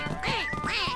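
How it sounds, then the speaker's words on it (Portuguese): A haunted duck breast in a video game lets out two loud, close, nasal quacks, each a rising then falling honk with a short gap between. "eu vou ficar ouvindo esse peito de pato assombrado"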